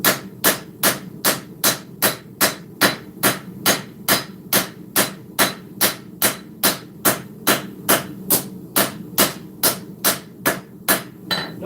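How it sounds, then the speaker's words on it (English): A heavy, almost 4-pound hammer strikes a steel sword blade on an anvil in a steady rhythm, about two ringing metallic blows per second, loud and close, continuing for over twenty strikes with no talking. "Using the almost 4-pound hammer."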